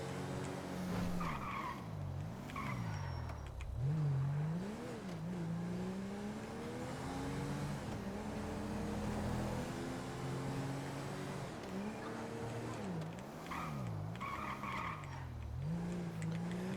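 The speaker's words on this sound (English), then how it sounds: "I like the screech noise when you're coming to a stop" Car tires screech as the vehicle brakes in GTA V, several drawn-out squeals rising and falling in repeated waves, loud and close with engine noise underneath and no talking.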